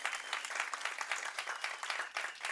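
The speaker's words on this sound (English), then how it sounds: "Give her a round of applause." Steady, continuous applause from a masterclass audience at a youth leadership summit, many hands clapping at an even moderate level for the whole stretch, faint and somewhat distant.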